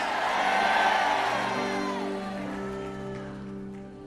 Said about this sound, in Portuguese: dá um grito para acordar a cidade inteira